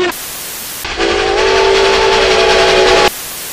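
The steam whistle of C&O #614, a steam locomotive, gives one loud sustained chime-like blast that lasts about two seconds and cuts off sharply, with steam hiss before and after.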